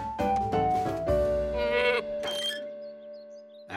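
Cartoon goat bleating in a wavering, drawn-out cry lasting about two seconds, loud and close, followed by a few faint chirps as it fades away, with no talking.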